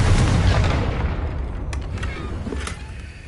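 A Confringo spell blast in the video game Hogwarts Legacy lands as a loud, booming burst right at the start, then rumbles and fades over a few seconds.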